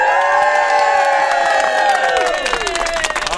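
An outdoor crowd gathered for a live TV broadcast in Windsor, Connecticut cheers loudly and continuously, with whoops and shouts rising over a sustained roar that eases slightly toward the end.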